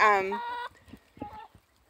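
A hen clucks loudly up close in a short harmonic burst, followed by a few quieter scattered clucks and soft rustling from a farm flock.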